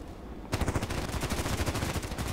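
Rapid bursts of H&K USP pistol fire in the online shooter Contract Wars, a quick run of sharp repeated shots starting abruptly and continuing steadily over a steady game background.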